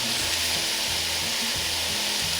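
Garlic and salt sizzling in a hot pan while being stirred, a loud continuous frying hiss with scraping stir strokes throughout, for yakisoba.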